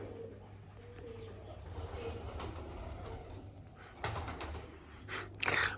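Pigeons coo low and steady while sharp bursts of wing flapping break in near the end, close and fairly loud.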